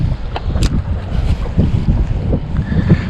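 Steady wind gusts buffet the microphone out on the water while fishing for crappie, a loud continuous rumbling roar with no speech.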